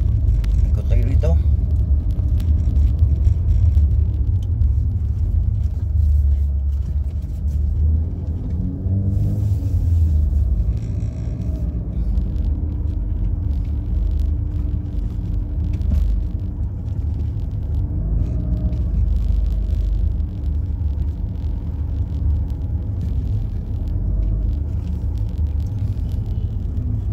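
Steady low rumble of car traffic on a city road at the lunchtime peak, with engines idling and crawling in congestion, continuous and fairly loud throughout.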